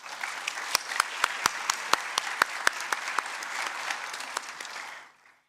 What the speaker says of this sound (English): Let's give those dancers another well-deserved round of applause.